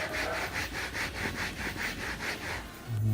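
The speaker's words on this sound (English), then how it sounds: "we'll just go ahead and sand a little bit more on this one" 80-grit sandpaper wrapped on a 2x4 block rubbed back and forth on wood for a model MiG-15 build, a steady rhythmic scratchy swishing of about a dozen strokes, close up, ending with a low thump.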